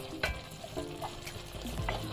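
Vegetables and meat stirred together and frying in a pan for white sauce pasta: a bright, close sizzle broken by repeated scraping strokes of a spoon, with no voices.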